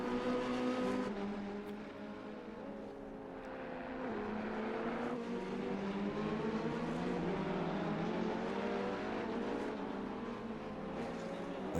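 Race cars lapping the Imola circuit in a racing video game, several engines droning and shifting pitch as they pass, steady and moderately loud throughout.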